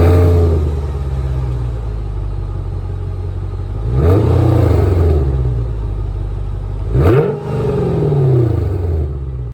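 A Mercedes-AMG engine with resonator and secondary cat delete idles with a deep, rumbling exhaust, then is revved sharply twice, each rev rising and falling back to a loud burbling idle.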